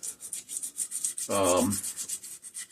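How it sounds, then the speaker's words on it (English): Sandpaper rubbing the metal sealing surface of a small Briggs and Stratton 5hp engine, a quick rhythmic series of soft rasping strokes, close and quiet, with one brief louder scrape midway. "then I do clean them up with sandpaper"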